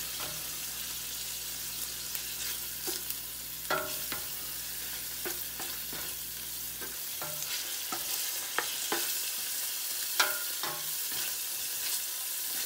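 Pork liver and tenderloin stir-fried for Ilocano igado, a steady sizzle in a pan broken by repeated scraping and stirring strokes, close and continuous with no talk.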